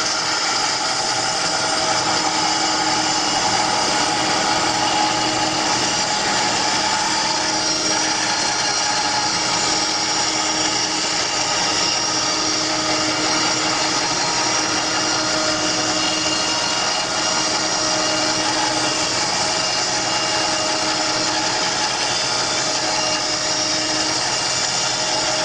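A bandsaw resaws wood with a freshly sharpened blade, giving a loud, constant machine roar with a steady hum and cutting hiss that holds unbroken throughout.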